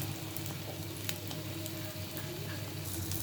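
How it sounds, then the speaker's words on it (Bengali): Flower fritters deep frying in hot oil give a steady, dense crackling sizzle that runs close and unbroken, with no talking over it. "বড়াগুলো একবারে ফুলে টুপ টুপ হয়ে গেছে মশমশা করে ভেজে নিচ্ছি"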